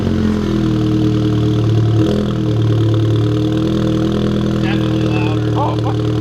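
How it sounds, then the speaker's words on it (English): VW MK7 GTI engine with an APR Stage 2 downpipe, first startup: a loud, close, steady low rumble with a slight swell in revs near the middle, while people talk over it. "I'm gonna give you the first startup with the downpipe"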